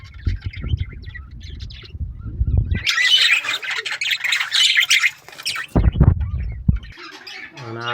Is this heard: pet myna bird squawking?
yes